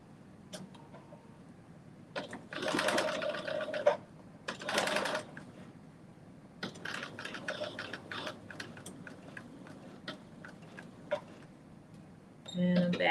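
A sewing machine back stitching a seam corner on a Simplicity 9825 sewing project, in short whirring bursts separated by pauses, fairly close, with a few brief quiet handling sounds between runs.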